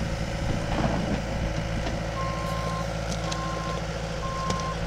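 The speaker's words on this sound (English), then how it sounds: "Has the backup alarm to it." Three evenly spaced backup alarm beeps from a 2008 Bobcat S300 skid steer over the low rumble of its working engine, no talking.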